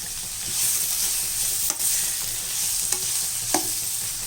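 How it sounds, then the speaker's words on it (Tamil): Onions with curry leaves sautéing in a pan for Chettinad chicken kuzhambu, a soft steady sizzle with a few distinct spoon scrapes and taps, close, no voices. "இதையும் நல்லா வதக்கிடலாம் இதுலேயே கறிவேப்பிலை போட்டுடலாம்"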